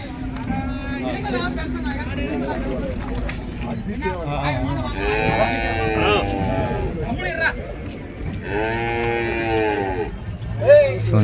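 Cart bulls at a cattle market in Vaniyambadi low and moo in several long, drawn-out calls, one after another, amid a busy crowd murmur with people talking throughout.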